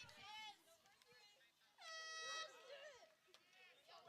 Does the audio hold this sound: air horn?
yes